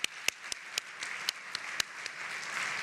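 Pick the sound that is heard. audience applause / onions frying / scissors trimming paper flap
audience applause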